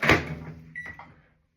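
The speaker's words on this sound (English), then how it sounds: "All we gotta do is just sit them in a microwave." A microwave oven door shuts with a firm thump, followed by a short beep and fading hum as the oven is set to cook a dish of peas in a home kitchen.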